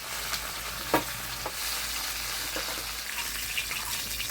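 A fish head rubbed with turmeric and salt fries in hot oil, giving a dense, even sizzle that runs steadily throughout, with a few soft spatters and light clinks.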